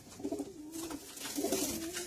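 Pigeons cooing close by in two soft, rolling bursts, a low throaty warble repeating over a faint background hiss.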